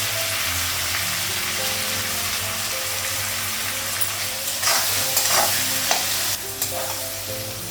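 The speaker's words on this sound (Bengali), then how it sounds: "পেঁয়াজটা অল্প ভাজা হয়ে গেছে" Onion fries with salt in a pan, a steady loud sizzle with intermittent stirring scrapes and clatters of the spatula against the pan.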